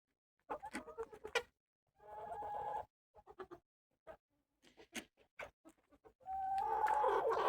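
Hens cluck and murmur in short, scattered bursts, close by and fairly soft, with brief quiet gaps between the calls.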